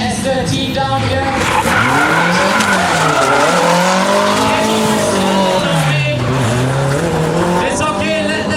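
A Honda S2000 drifts at the King of Drift Asia 2015 event, its engine revving loudly while tires squeal and skid continuously in long wavering wails, close and sustained for the whole stretch.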